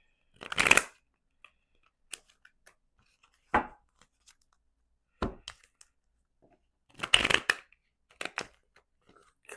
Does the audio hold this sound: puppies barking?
no